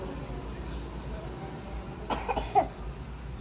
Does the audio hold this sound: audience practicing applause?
no